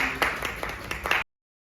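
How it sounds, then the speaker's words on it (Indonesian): Brief scattered handclapping from a small classroom group of students, a handful of claps over about a second before cutting off abruptly, with no speech. "Beri aplaus untuk teman-teman kalian."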